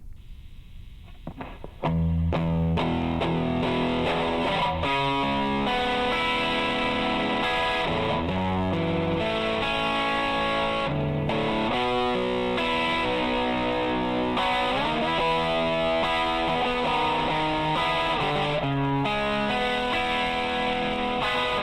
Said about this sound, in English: we have a guitar crunch here